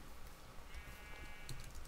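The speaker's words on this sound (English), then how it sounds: "Sheep?" A Minecraft sheep bleats faintly through a quiet, hissy game soundscape, a short wavering call midway with soft clicks around it.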